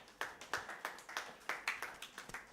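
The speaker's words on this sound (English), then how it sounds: "Please give them a round of applause." Sparse, evenly paced handclaps from a small audience, roughly a dozen distinct claps in a steady rhythm, fairly faint and heard alone with no talk.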